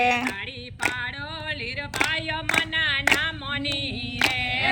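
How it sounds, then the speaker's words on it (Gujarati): A group claps in steady rhythm along to a sung Gujarati devotional kirtan at a Tulsi Vivah satsang, sharp hand claps landing every half second or so beneath a woman's melodic singing. "તાળી પાડો"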